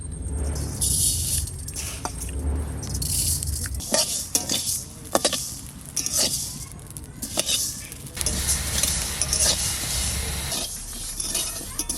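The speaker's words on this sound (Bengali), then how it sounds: "আবার দিয়ে দিই চাল কেমন ফোটে" Rice roasts in a pan for laddu with sharp popping crackles and metallic scraping against the pan, mixed with a hissing sizzle and a low rumbling background.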